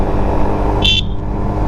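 A motorcycle horn gives a single short honk, about a fifth of a second, cutting through heavy engine and road rumble in one-way traffic on a rural road.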